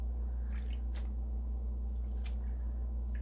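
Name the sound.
wet wool fleece pressed down in hot soapy water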